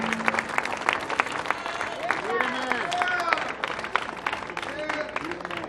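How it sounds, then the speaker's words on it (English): An audience claps and cheers at an outdoor Lincoln Park community gathering, with a burst of applause mixed with crowd chatter and a few whoops that slowly thins out toward the end. "How about a round of applause for this young man"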